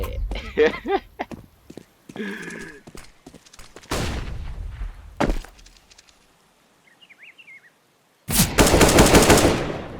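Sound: sniper rifle gunfire in video game Counter-Strike: Global Offensive

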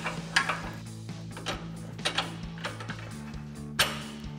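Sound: pry bar and lower strut bolt being installed on RAM 1500

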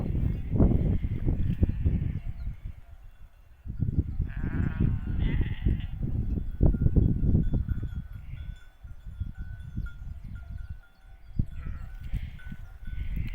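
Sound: sheep bleating

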